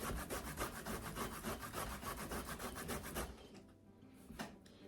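Fresh ginger root being grated, a rapid rhythmic rasping of steady close strokes for about three seconds, then stopping into quiet with a faint final scrape.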